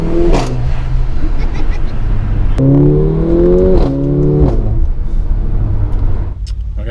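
Mercedes A45 AMG engine accelerating on a drive, loud close rumble with rising revs climbing through gears and sharp shift breaks, heard from inside the car.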